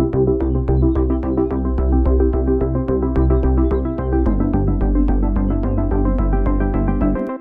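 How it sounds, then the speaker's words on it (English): A saw bass synth with an LFO moving its level and cutoff pulses in a steady, jumping rhythm under plucky repeating notes, with the bass dropping lower partway through. "This is essentially just kind of like a saw bass that is jumping a little bit."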